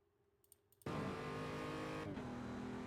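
BMW M235i Racing car going to full throttle at Road Atlanta: after a quiet in-cabin moment, the engine bursts into a loud sustained roar, with a brief dip as it shifts gear before climbing again.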